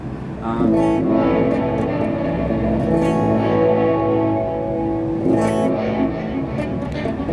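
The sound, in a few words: guitar through Seymour Duncan Silver Lake reverb pedal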